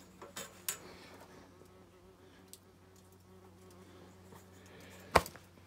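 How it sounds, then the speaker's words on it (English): Wasps buzz faintly near a sawmill cutting birch logs outdoors, a thin steady drone broken by a few sharp knocks and clicks, with one louder bump near the end. "Wasps."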